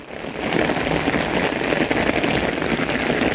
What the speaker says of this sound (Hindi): बड़ी खतरनाक बारिश लगी हुई है